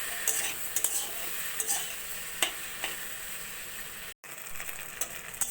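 Elephant apple and potatoes fry in a pan for an Assamese fish curry, a continuous close sizzle broken by repeated scraping and tapping of a spatula against the metal.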